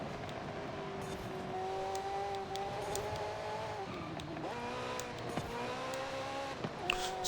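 A Ferrari F40 in Forza Horizon 5 holds a steady engine drone at first, then shifts pitch several times as it accelerates and changes gear. Bursts of tire squeal break in near the end. No one speaks.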